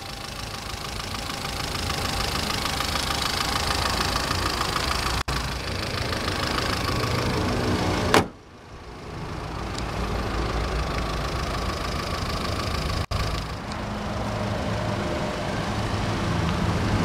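A 2007 Naza Suria with a 12-valve inline four idles steadily after start-up, a loud, even mid-pitched engine hum running throughout with a brief dip and a couple of sharp clicks, no talking.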